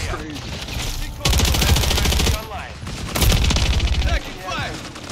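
In the Call of Duty video game, loud, close automatic gunfire rattles in two long bursts separated by a short lull, with softer shots and game noise around them.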